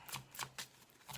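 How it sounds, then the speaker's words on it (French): Oracle cards are shuffled in a quick, faint riffle of four soft papery bursts, close by and with no voice over them. "je tire les cartes et je vous explique."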